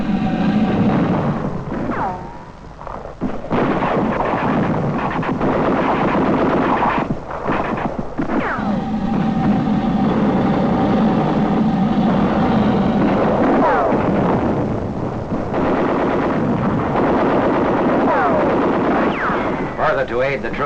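WWII battle gunfire in the Netherlands, machine guns and artillery firing on enemy machine gun nests in rugged hills, a loud, dense, continuous din of shots and blasts filling the whole stretch.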